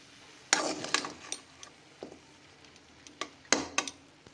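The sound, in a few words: pouring boiled vegetable stalks and potatoes into a strainer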